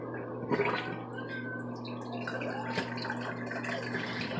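Water drains from a Kuppet portable washing machine in soft, uneven gurgles and trickles, with a faint steady hum underneath and a few louder splashes, heard close and quiet.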